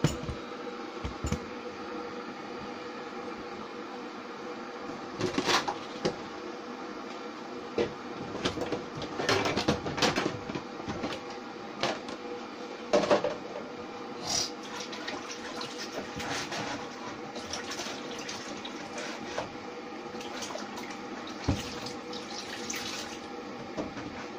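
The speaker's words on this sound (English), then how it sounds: "Let me start cleaning these utensils right now." Tap water runs steadily while utensils are washed in a village setting, with scattered clinks and clatters of dishes and splashes rising over the flow at irregular moments.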